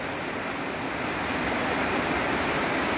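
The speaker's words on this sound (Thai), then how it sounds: "มีแต่ฝนล้วน" Steady rain pours down on a windless day, a dense, even hiss of falling water that stays constant and fairly loud throughout, with no voices.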